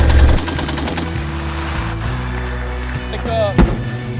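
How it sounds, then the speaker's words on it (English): Simulated gunfire in a military airstrike training exercise, with a rapid burst of sharp shots at the start, then a dense mix of rumbling engine noise and tones, and a single louder crack near the end. "we're still taking sporadic fire"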